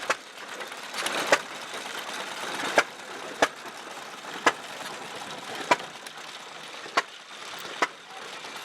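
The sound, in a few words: mixing concrete for a 1923 concrete block machine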